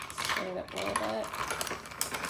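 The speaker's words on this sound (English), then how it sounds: "stir it up a little bit" A spoon stirs a fizzy soda spritzer in a glass, with quick metallic clinks and tinkling against the sides while a person talks faintly.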